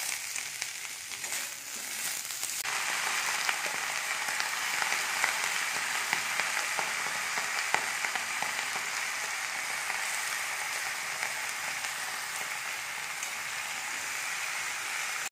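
Vegetables sautéing in a pan at home, a steady broadband sizzle and crackle running throughout with faint stirring scrapes, close and continuous with no talking.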